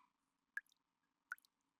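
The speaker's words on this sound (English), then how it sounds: "Drip? Something leaking?" Two separate water drips land about three-quarters of a second apart, each a brief wet plip with a small splashy tail, close and quiet over a faint hum, from a leak in the video game Goddess of Victory: NIKKE.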